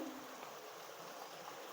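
Heavy rain pouring outside during home cooking, a steady soft hiss of falling water heard faintly and evenly throughout.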